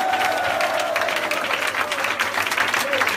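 A congregation at a 'Louange et Adoration' prayer service applauds and cheers for the Burkinabés, a dense, continuous wash of clapping and crowd noise with voices mixed through it, loud and unbroken throughout.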